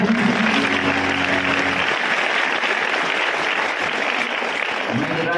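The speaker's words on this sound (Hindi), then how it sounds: "ताली बजाओ बढ़िया।" An audience at a Hindi religious katha gathering in the Kota–Baran area claps steadily and loudly for about five seconds, with dense continuous applause and faint murmuring underneath.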